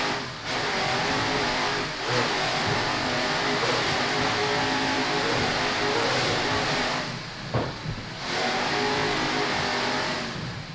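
Race cars circle an ice track in a 2002 ice-racing event, with loud, continuous engine roar and revving that swells and dips as they pass.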